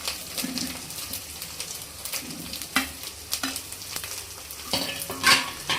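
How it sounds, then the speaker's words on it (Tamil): A spoon stirring fish curry in a pan with curry leaves and grated coconut, soft sizzling under scattered scraping and clinking strokes, close by and moderately quiet. "கொஞ்சம் கிண்டி விட்டுக்கோங்க"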